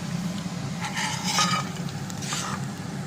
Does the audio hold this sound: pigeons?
no